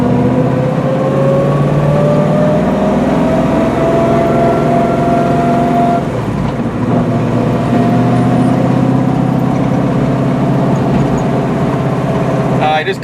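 A 1966 Ford Mustang Fastback engine revs and accelerates while driving, pitch climbing steadily, dipping briefly at a gear shift around 4,500 rpm, then rising again; loud and close.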